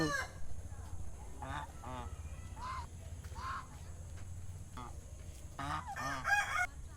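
A group of ducks quacking and honking in repeated loud bursts nearby, outdoors after rain, over a low constant hum.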